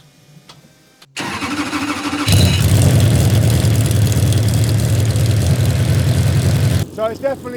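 A V8-powered mini truck fitted with a new exhaust cranks and fires up, then settles into a loud, steady, close idle that holds for several seconds before cutting off near the end.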